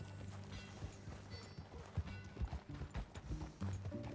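Horse hooves clip-clop in a PS4 video game in an uneven rhythm, fairly close, with mechanical clanks and scattered background noise.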